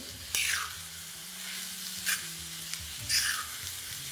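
Chopped onions fry in oil on a high flame, with steady close sizzling under a low stove hum and a few louder stirring scrapes.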